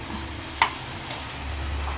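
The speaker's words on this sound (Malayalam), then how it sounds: "നന്നായിട്ട് മിക്സ് ചെയ്ത് കൊടുക്കാം." Ivy gourd and beans fry in a pan with a faint, steady sizzle. A single sharp clink of the stirring utensil sounds early on.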